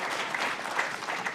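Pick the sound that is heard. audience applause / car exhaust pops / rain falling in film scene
audience applause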